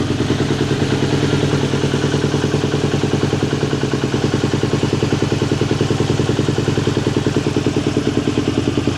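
A KTM 890 SMT motorcycle engine with a Rottweiler Performance power plate air filter mod runs steadily up close, a loud, even, rapid clattering idle with no other sounds.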